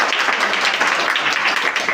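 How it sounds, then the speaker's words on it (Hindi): A quiz audience at a children's general-knowledge contest breaks into loud, dense applause that stays level and continuous throughout, with no clear speech over it. "जोरदार ताली के साथ"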